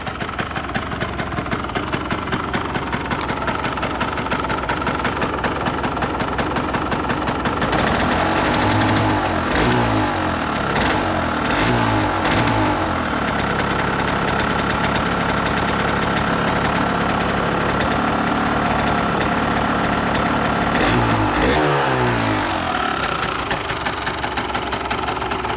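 A Yamaha DT200R motorcycle engine warming up, a loud close idle with a rattling knock, broken by several quick revs in the middle and one more near the end.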